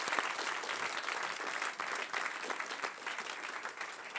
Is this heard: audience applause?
yes